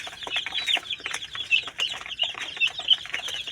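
Several chickens cluck and squawk nearby in quick, overlapping bursts, with a few sharper calls rising above the rest.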